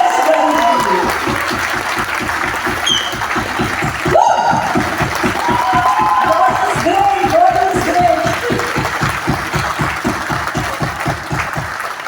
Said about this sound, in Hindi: जोरदार तालियां सुब्रा दीदी के लिए।